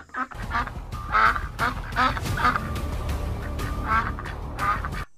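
Cartoon ducks quack in repeated nasal bursts, loud and close, with a steady background bed beneath them, in a Bengali animated fox story.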